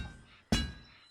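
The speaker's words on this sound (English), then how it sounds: "So, see that those white blips? That little clinking noise? That means that spot is completely done." A small clink from a depleted resource spot in the VR game A Township Tale: a single sharp, bright tap with a brief ringing tail, fairly faint over a low background hum.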